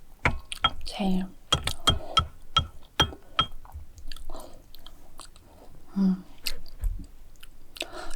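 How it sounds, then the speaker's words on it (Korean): Close, wet chewing and biting of rice mixed with braised egg (gyeran jangjorim) soy sauce, repeated in bursts with light clinks of utensils against a bowl, all near the microphone. "양념에 밥을 비벼서 그냥 후루룩 짭짭 먹을게요"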